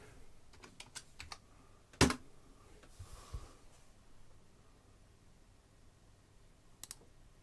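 Sparse typing on a computer keyboard: a few light keystrokes, one loud sharp click, then a pause and a short final burst of taps in a quiet room.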